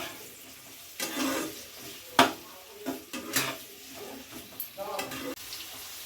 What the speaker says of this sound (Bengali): আদা রসুন কুচি কেটে রাখা টমেটো ভালো করে ভেজে নেব